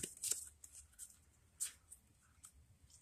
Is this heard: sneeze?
no